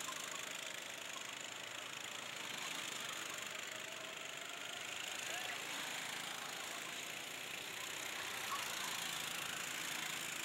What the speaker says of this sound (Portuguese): bota a potência no motor